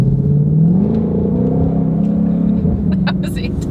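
A 2020 Shelby GT500 rolls past close by over a small bridge, a loud low engine rumble that rises in pitch as it accelerates and then fades, with faint voices toward the end.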